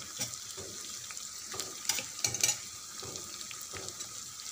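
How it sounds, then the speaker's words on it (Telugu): Onions frying in oil in a pan with curry leaves and dried red chillies for a Telugu amaranth-leaf curry, giving a steady bright sizzle with occasional louder crackles and stirring clinks, close up, no talk. "ఉల్లిపాయ బాగా ఫ్రై అయ్యేదాకా ఫ్రై చేయాలి"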